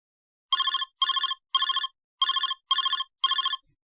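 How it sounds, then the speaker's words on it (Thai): An expensive mobile phone ringing inside a small bag, six loud identical electronic ring bursts in a steady rhythm with short gaps, clear and close with no other sound. "เสียงโทรศัพท์เครื่องแพง กรีดร้องอยู่ในกระเป๋าใบเล็ก"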